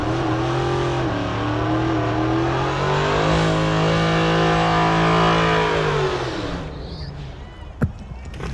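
Drag race cars launching at Tulsa Raceway Park, a green Challenger and a diesel truck, with loud engines revving in a rising, sustained roar that fades as the vehicles pull away, followed by a sharp crack; an announcer talks.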